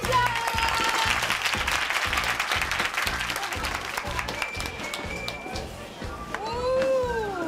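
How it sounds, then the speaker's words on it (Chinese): A group applauds on a Taiwanese travel variety show set in Tainan's Yongkang and Guanmiao: brisk, rhythmic clapping that carries on steadily, with a few bright voices rising near the end. "来，大家掌声鼓励一下。"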